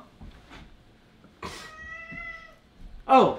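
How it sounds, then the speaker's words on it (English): A cat gives a short, close meow, with soft rustles and a brief human voice around it. "And there's the cat."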